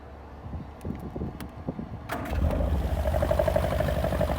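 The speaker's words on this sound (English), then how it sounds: "Starts on the button, no rattles, no smokes." A 1970 Lotus Series 4 with a high-lift cam is started: a brief cranking churn, then the engine catches and settles into a steady, loud, close idle.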